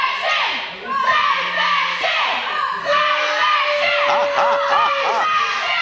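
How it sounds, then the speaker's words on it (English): A group of fans cheers, hollers and shouts at a Thursday night throwdown event, loud excited voices with scattered yells and screams carrying through. "they do got a bit of a cheering section out here this week"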